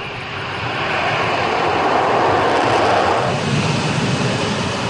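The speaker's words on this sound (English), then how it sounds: "Once the jet starts moving, it doesn't take long to take off." An F-35B fighter jet, a short-takeoff vertical-landing type, takes off with a loud, steady engine roar that swells in the first second and then holds a broad, sustained rush to the end, with no voices.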